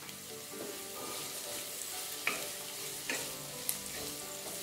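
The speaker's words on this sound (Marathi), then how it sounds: "आपण ह्या भाज्या 2 मिनटं चांगल्या परतून घेतल्या" Vegetables for Schezwan veg fried rice being stirred in a hot pan, a steady low sizzle with a few sharp spatula scrapes and clinks cutting through, close and moderately quiet.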